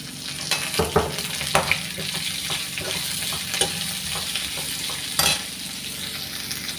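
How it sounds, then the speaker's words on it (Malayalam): Sliced onion, green chilli and curry leaves sizzle and fry with okra in a pan, a steady crackling hiss broken by several scraping stirs, close and fairly loud. "നമുക്ക് സബോള ഇട്ട് കൊടുക്കാം സവോള പച്ചമുളക് കറിവേപ്പ്"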